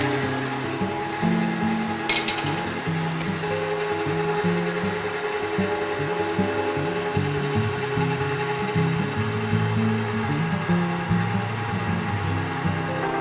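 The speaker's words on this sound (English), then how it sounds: "I want to whisk it until it gets pretty stiff" Three egg whites are whisked toward stiff peaks with a constant mechanical whirring that runs steadily for the whole stretch, close and fairly loud, with no talking over it.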